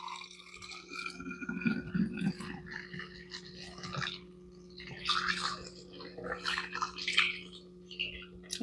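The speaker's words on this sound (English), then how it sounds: "we've got our storage bottle, we've got our funnel, and we're just going to pour the milk" Homemade almond milk is poured through a funnel into a storage bottle, giving soft, intermittent gurgling and trickling splashes in bursts over a low steady hum, fairly quiet and close.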